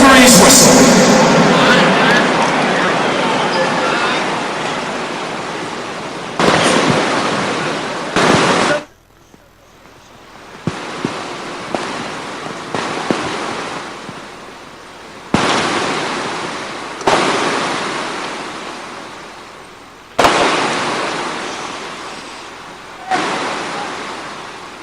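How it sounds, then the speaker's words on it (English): Heavy pouring rain drenching a stadium during a silence before the Australia vs England match, a loud broadband hiss that swells and eases in waves, with faint crowd murmur underneath and a whistle marking the break. "mainly just the sound of the pouring rain"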